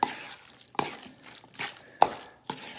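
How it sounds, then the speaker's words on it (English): A spoon stirs guacamole made from Hass avocado with cilantro and onions in a bowl, giving four or five soft, wet scraping strokes at an uneven pace, close and fairly quiet with no talk. "And then what we'll do is we'll just stir this up."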